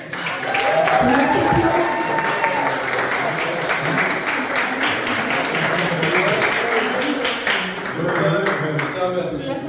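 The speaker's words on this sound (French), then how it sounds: "Allez, encore des applaudissements." Continuous, lively applause from spectators at a powerlifting competition's prize-giving, thick clapping throughout with voices talking underneath.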